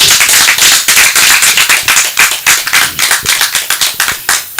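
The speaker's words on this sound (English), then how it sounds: "I think we should clap for him" Audience clapping at a conservation event launching chimpanzee census findings, a rapid, close, uneven patter of many hands that stays steady throughout.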